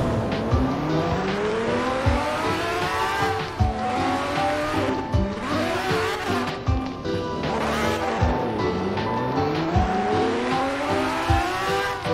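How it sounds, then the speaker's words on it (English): Ferrari race car in a midnight street-racing video game, its engine droning and shifting pitch continuously with repeated tire squeals and skids as it drifts through corners, loud and close throughout. "Ferrari car is going."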